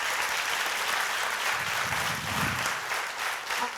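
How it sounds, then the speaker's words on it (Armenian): An indoor audience gives a speaker a steady, dense round of applause that continues evenly for a few seconds with no voices over it. "Առաջարկում եւս մեկ անգամ ծափահարենք Տիգրանին։"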